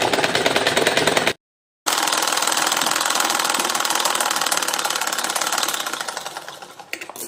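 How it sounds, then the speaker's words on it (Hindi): A sewing machine runs fast and steadily while stitching a blouse seam, giving a close, loud, rapid mechanical chatter that breaks off briefly, restarts and runs on before slowing to a stop. "मैं इसको ऊपर करते हुए सिलाई लगाकर दिखाती हूँ।"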